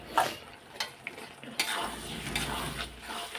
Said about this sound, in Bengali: এবার কষতে থাকুক